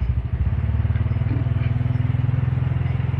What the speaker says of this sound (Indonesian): Oke, ini saya coba ya naik motor.